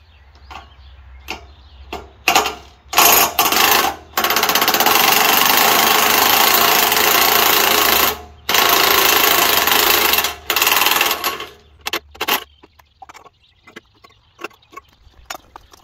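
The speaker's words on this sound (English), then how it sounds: "let me grab the battery impact gun, and we'll get to taking this wheel off" A battery-powered impact gun takes the wheel off a hay tedder, hammering loud and close in several long rattling bursts with short breaks between them, followed by a few brief, quicker trigger pulls.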